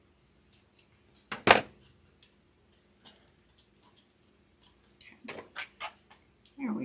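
Scissors trim decoration material for a holiday candle, giving sparse, quiet snips and ticks spread out with pauses, one sharper cut standing out and a cluster of snips near the end.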